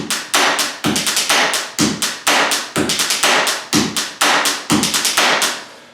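A pen drummed on a desk in a fast, looping rhythm of sharp, close taps and thuds, the same short pattern repeating over and over.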